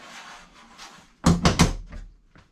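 Full metal aftermarket doors on a Can-Am X3 UTV shut with two or three sharp metallic slams in quick succession, close and loud, after a quieter stretch of faint handling noise.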